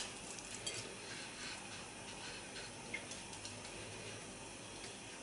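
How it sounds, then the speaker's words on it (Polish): Breaded minced-meat cutlets fry in fat in a pan, giving a faint, steady sizzle with occasional small ticks and pops and no voices. "Obtaczamy w bułce tartej i smażymy na rozgrzanym tłuszczu."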